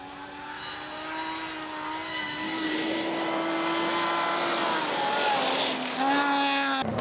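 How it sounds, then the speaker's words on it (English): A classic Subaru WRX rally car engine revs on a stage at the Otago Rally, a strong tonal whine rising and holding with gear changes near the end, heard close and loud. "it's great to hear that classic Subaru engine sound again"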